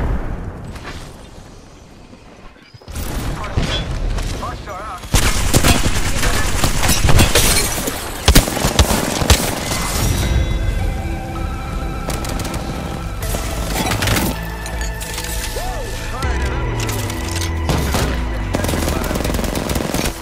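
Automatic weapon fire and grenade blasts from an Apex Legends match, dense and loud throughout with sustained bursts and booms, a voice speaking over the combat.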